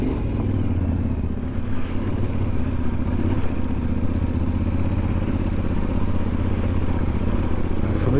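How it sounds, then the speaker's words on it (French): A Yamaha Ténéré 700 motorcycle climbing a steep mountain track with hairpins in the Mont-Blanc area, its engine a steady, loud, close drone in second gear with gravelly rumble and no talking. "Il faut mettre du gaz si tu restes en deuxième, mon garçon."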